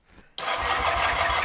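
A Kawasaki KZ440 motorcycle with choke on and a single carburetor fires up: a brief cranking hint, then the engine suddenly catches into a loud, steady running rumble close by.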